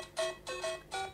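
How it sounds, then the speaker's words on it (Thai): A phone ringtone based on the Super Mario video game plays three short, faint, bright electronic note bursts in a quick, even rhythm. "ยกตัวอย่างในที่นี้นะครับเสียงซูเปอร์มาริโอนะครับลองเข้าไปฟังกันดูนะครับ"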